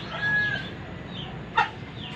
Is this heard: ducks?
yes